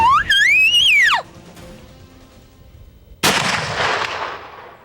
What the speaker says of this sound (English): steadies his muzzleloader and gets ready for the shot